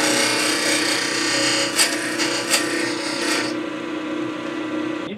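A parting tool cuts a small tenon into very hard ebony spinning on a wood lathe, giving a loud, steady rasping scrape over the motor hum before the cut stops and the lathe runs on quieter.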